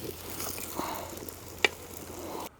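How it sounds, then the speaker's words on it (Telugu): Ginger and garlic fry in a pan for a Telangana-style goat curry, giving a soft, steady sizzle. One brief metallic click rises partway through, then the sound cuts off abruptly. "అల్లం వెల్లిపాయ మంచిగా వేగింది."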